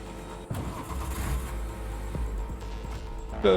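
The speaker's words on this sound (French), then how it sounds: "Hop, on monte dans la voiture." A car in the video game Cyberpunk 2077 starts up and pulls away, its steady engine rumble holding fairly loud and close, with a few sharp knocks and a brighter rising tone at the very end.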